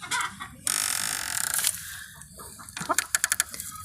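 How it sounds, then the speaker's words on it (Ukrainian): A rooster and three hens cluck and squawk up close, a loud burst followed by a rapid series of short, sharp clucks. "півник і три курочки"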